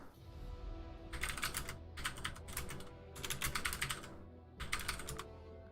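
Computer keyboard typing in quick bursts of clicky keystrokes, close and clear, separated by short pauses, with no talk.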